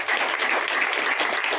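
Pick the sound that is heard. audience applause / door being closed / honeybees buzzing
audience applause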